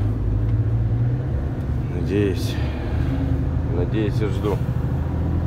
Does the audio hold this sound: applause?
no